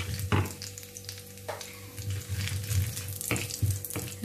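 Cumin and fennel seeds frying in hot oil for a Tamil curry, a continuous close sizzle broken by a few sharp pops and spatter bursts.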